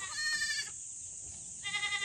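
A young goat bleats twice, short wavering cries close by with a brief quiet gap between them.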